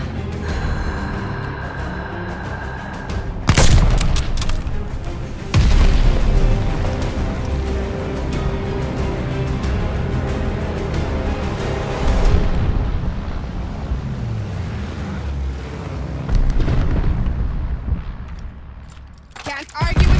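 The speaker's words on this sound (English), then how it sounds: "Bombing run inbound." Series of loud explosions from a bombing run in a war video game, heavy booming blasts at roughly 3.5, 5.5, 12 and 16 seconds over continuous rumbling battle noise, alone without talk.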